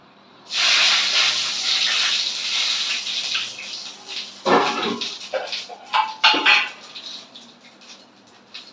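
Dry red chillies, cumin and bay leaves hitting hot oil, a sudden loud hiss that settles into steady sizzling, then bursts of crackling and spattering as the spices are stirred.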